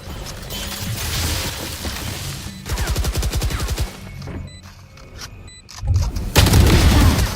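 Valorant gunfire, loud and close, with a rapid automatic burst, some heavy booming shots and a few clicking weapon mechanisms between louder blasts, ending in a thick roaring spray.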